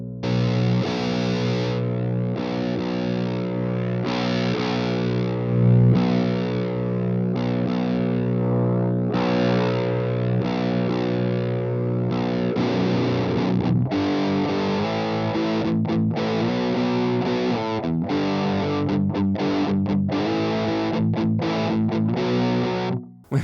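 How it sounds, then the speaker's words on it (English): Electric guitar played through a Boss Metal Zone MT-2 pedal dialed to its cleanest setting, sounding as a steady run of sustained chords and notes with a slightly gritty, processed edge, loud and continuous with no talking. "now I'll dial in as clean as possible sound with the Metal Zone"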